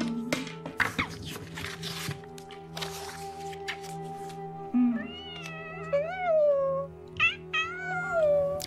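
A cat meows several times indoors, rising and falling close-up cries in the later half, after rustling and handling noises at the start.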